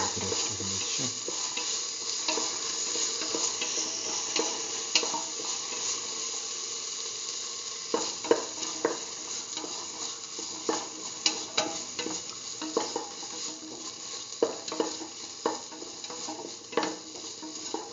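Tomato pieces and a spice mixture sauté in a pan with a steady, bright sizzle, while a utensil scrapes and stirs in scattered clicks through the later part.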